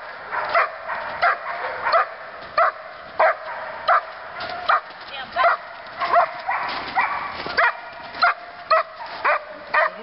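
Repeated dog barks, short and sharp, come at an uneven pace over steady background noise, fairly close and loud throughout.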